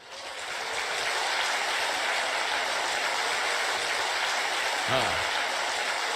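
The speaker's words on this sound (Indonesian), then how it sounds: "Anda betul-betul harus memberi tepuk tangan." Audience applause at a company business seminar, a steady dense wash of clapping that swells in within the first second and holds evenly to the end.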